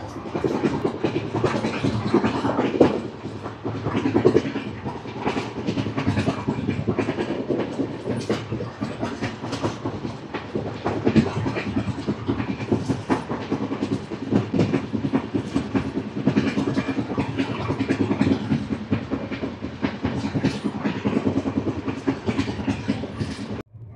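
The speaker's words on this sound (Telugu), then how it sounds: "ఇది మళ్ళీ ప్రీమియం ట్రైన్ ఇది" Bikaner–Sealdah Duronto Express, a premium train, heard from inside as it runs on the rails, with a steady loud rumble and rhythmic clickety-clack of the wheels throughout, and no talk.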